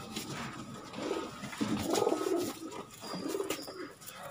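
Pigeons coo repeatedly on a rooftop, soft rolling calls rising and falling close by, with faint chirps mixed in and no talking.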